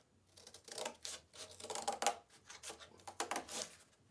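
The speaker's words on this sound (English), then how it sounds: "Now I'm gonna take my scissors and cut off" Scissors cut through cardboard for a craft project, making a run of crisp, uneven snips and crunches close by, with short pauses between cuts over a faint low hum.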